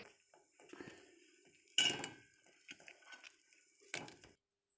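Fried semolina sweets (sujir chitrakut) are dropped into sugar syrup, giving a few sharp clinks and splashy knocks against a metal pan, separated by quiet gaps.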